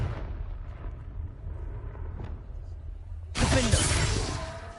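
A Confringo blasting spell in Hogwarts Legacy detonates with a sudden loud, bright explosive burst and crackling shatter after a stretch of quieter game ambience, then rumbles on.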